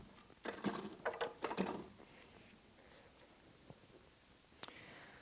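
A wooden Pilates reformer carriage is moved, giving a close burst of clattering mechanical knocks and rattles for a couple of seconds, then a quiet stretch with a couple of isolated clicks.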